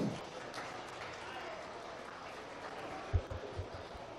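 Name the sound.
round of applause for exhibitors at meat goat show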